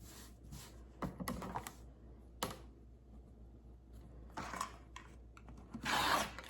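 Scissors cutting roughly through the bottom of a cotton t-shirt, a few short scraping snips and fabric rustles spaced out, quiet and close, with one louder cut near the end.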